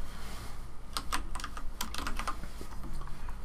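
Quick bursts of keystrokes on a computer keyboard, close and fairly quiet, with short clusters of clicks and brief pauses between them.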